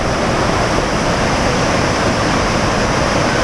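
A big waterfall in the Watkins Glen gorge, New York, roars as one loud, steady wash of rushing water with no breaks.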